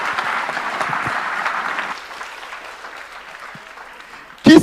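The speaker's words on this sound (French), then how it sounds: "On applaudit Jimmy chaudement, s'il vous plaît." Applause from a congregation at an evangelical campaign gathering, a dense steady clapping that fills the first two seconds and then thins and tapers, with a brief louder burst at the very end.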